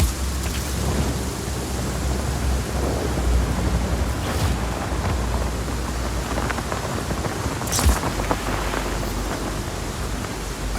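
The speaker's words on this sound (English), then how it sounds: "Storm's rolling in." Thunderstorm in the video game Just Cause 4, with steady heavy rain and rolling thunder, including sharp cracks near 4.5 and 8 seconds, continuous and loud throughout with no talk.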